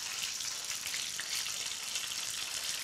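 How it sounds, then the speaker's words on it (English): Frittelle frying in hot oil give off a steady, dense crackling sizzle, close and even for the whole stretch with no other sounds on top. "being able to fry the frittella is the biggest honor of the night"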